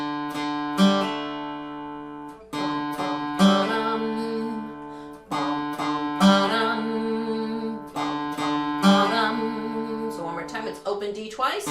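Guitar plays a riff: open D twice, open G, then a hammer-on, repeated in clear plucked phrases with ringing sustain, close and alone.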